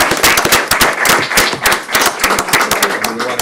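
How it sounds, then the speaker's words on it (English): An audience at a Board of Commissioners meeting gives loud, sustained applause for the monthly award winners. The clapping is dense and close, with many sharp overlapping claps filling the room and almost no talk. "one big round of applause for all our winners this month"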